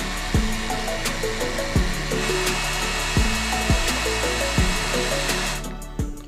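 A power drill bores holes into bamboo for a handmade bicycle frame, a loud continuous whine with the motor repeatedly dipping and rising as the bit bites into the cane, up close, with no talking.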